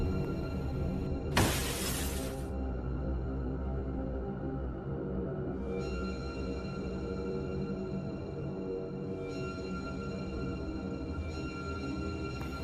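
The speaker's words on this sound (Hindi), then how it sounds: "फिर सोन द पोटी बॉय हिम्मत करके एम्बुलेंस के सामने का शीशा तोड़ता है" The front windshield of an ambulance in an animated cartoon shatters in one loud, sharp burst of breaking glass early on, followed by a sustained tonal music bed with no speech.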